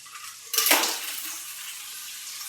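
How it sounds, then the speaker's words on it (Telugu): Crabs go into a cooking pot seasoned with turmeric, landing as one loud clattering splash followed by a softer sizzle and scraping that fades off. No one speaks. "ఇప్పుడు ఈ పీతలు వేసుకుందాం."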